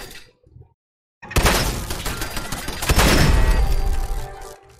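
Gunfire in the video game Fallout 4 comes as a brief quiet moment, then a loud burst of shots with shattering, crashing impacts that lasts several seconds.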